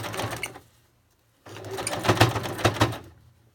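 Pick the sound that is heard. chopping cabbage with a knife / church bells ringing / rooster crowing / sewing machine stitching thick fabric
sewing machine stitching thick fabric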